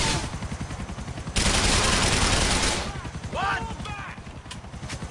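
Rapid automatic gunfire in Grand Theft Auto IV, a dense, loud burst of shots in the middle of the stretch, with quieter shooting, game noise and a voice talking around it.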